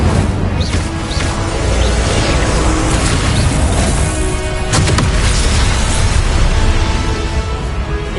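Incendio fire-spell blasts in Hogwarts Legacy: a loud, continuous roaring wash of flame and impact noise with repeated whooshing bursts, dense and close throughout.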